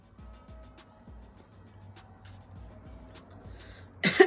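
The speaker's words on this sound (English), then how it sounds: "Clear my throat." A quick, close throat clearing lands at the very end, following a quiet room with faint rhythmic thumps and a brief rustle.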